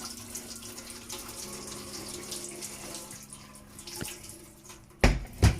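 Hot water runs from a kitchen tap over seasoned saltfish, a soft continuous trickle and splash, fairly quiet, ending with a couple of louder bursts of clattering water near the end.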